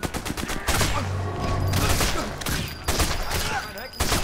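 Rifle fire in the video game Sniper Elite 4, several sharp, loud shots in quick bursts, with a voice talking faintly underneath.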